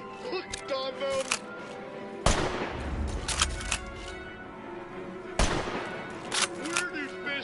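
Gunfire in the VR video game American Dream, with bursts of rapid shots in two loud volleys amid clattering game sounds.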